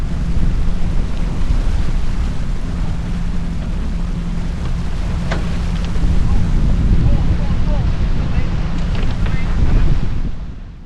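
Strong 20-knot wind buffeting a sailboat after a race, a loud, steady broadband roar of gusts across the microphone with water and boat noise beneath, holding for the whole stretch and swelling near the end.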